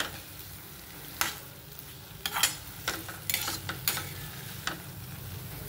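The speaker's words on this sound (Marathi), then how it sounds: "आता हे आपल्याला मटर आणि हा मसाला पूर्णपणे मिक्स करून घ्यायचा आहे" Peas and masala are stirred together in a pan for methi matar malai, with quiet frying underneath and a series of distinct spatula scrapes and knocks against the pan.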